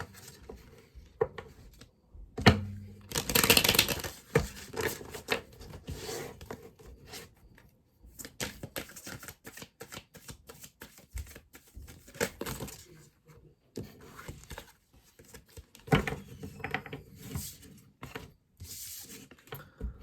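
Close, rapid papery riffling and rubbing in repeated bursts with brief pauses as tarot cards are shuffled by hand; no one speaks.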